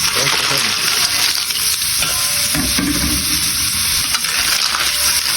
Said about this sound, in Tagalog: At isunod na natin igisa ang ating mga suso.